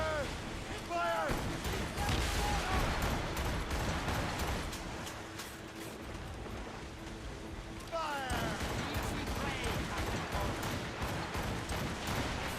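Ship cannons firing in the naval combat of Assassin's Creed Rogue, heavy booming volleys rumbling over a steady churn of sea and battle noise, with voices calling out over the din.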